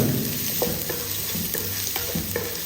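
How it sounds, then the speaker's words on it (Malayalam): Finely chopped onion sautéing in a pan for Kerala-style green chilli curry, a soft steady sizzle broken by regular scraping stirs of a spoon, close and moderately quiet. "ചെറുതായിട്ട് കുത്തിയരിഞ്ഞു വെച്ച സവോള ഇതിലേക്ക് ചേർത്ത് കൊടുക്കാം. സവോള നല്ലപോലെ ഒന്ന് വഴറ്റിയെടുക്കണം."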